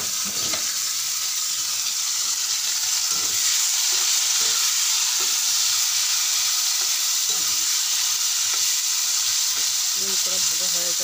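Poha (flattened rice) fries and is stirred in a pan at home, giving a constant loud sizzling hiss with faint scraping knocks throughout and no talk.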